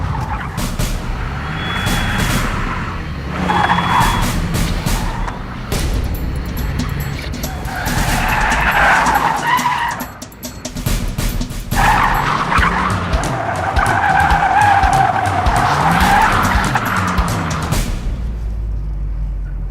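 A Fiat 124 Spider slides sideways on a track with long, wavering tire squeals over a loud, varying engine note that rises and falls through nearly twenty seconds.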